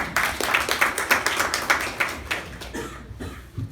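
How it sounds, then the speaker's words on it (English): A brief round of applause at a club meeting, with a handful of people clapping in a loose, uneven rhythm of distinct claps nearby that thins out and stops after a few seconds. "Give him a big round of applause"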